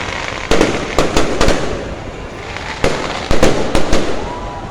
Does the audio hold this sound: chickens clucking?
no